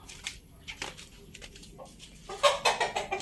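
A hen clucks close by, a few scattered clucks at first, then a rapid run of louder, rhythmic clucks near the end.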